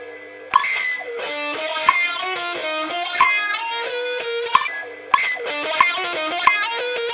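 An electric guitar plays a bright, fast melodic lick of plucked notes with a slightly gritty edge. The phrase repeats in two similar passes, loud and alone.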